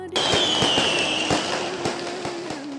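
Firecrackers pop in quick succession during Ramadan festivities, sharp bangs spaced roughly every quarter second over a dense crackling wash and a high whistling hiss, loud and close.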